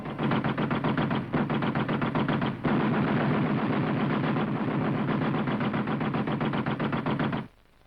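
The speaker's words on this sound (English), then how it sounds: "The Tommy gun was the ideal infantry weapon for close jungle fighting." A Thompson submachine gun fires in the jungle fighting of the Malaya campaign: long rapid automatic bursts, loud and close, with two brief breaks before the firing stops near the end.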